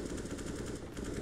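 Automatic rifle spray in a Counter-Strike match on the Cobblestone map, a dense continuous burst of rapid gunfire filling the whole moment at steady loudness with no talk.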